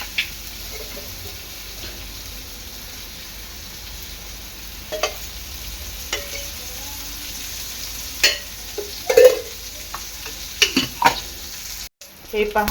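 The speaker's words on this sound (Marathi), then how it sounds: "आपली गाभोली आहे ना दोन्ही बाजूनी चांगली तळून झालेली आहे" Fish roe fries in a little oil in a pan over low heat, a continuous close sizzle with occasional clicks and scrapes of a utensil; a few words are spoken briefly.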